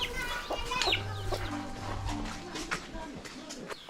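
Chickens cluck in a village courtyard, a mix of short clucks and calls at moderate distance with ambient background noise throughout.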